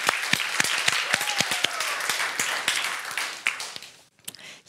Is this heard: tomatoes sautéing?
no